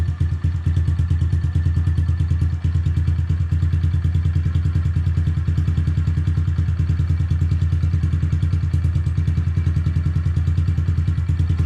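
A Honda CRF110 dirt bike idles cold on fresh, cold oil, its small single-cylinder engine putting out a steady, close, loud putter with fast, even mechanical clatter for the whole stretch and no talk over it.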